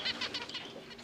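Pet birds in an indoor room giving a quick burst of high chirps with a brief flutter, close and fairly loud, over about a second.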